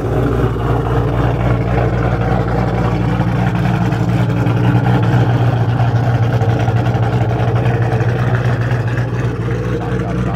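A cammed, high-horsepower car engine rumbles at a steady idle at a car meet, a constant low, throbbing drone held for the whole stretch, with faint voices in the background.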